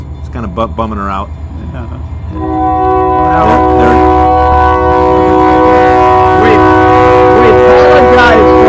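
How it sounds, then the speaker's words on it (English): Train running right through the middle of Junction City, its horn blaring in long sustained blasts over the rumble of passing cars; a person speaks briefly beforehand. "That's a train going right through the middle of Junction City."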